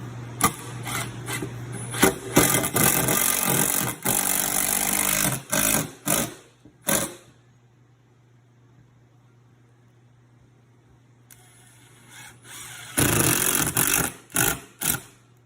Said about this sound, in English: go ahead and put the other two screws in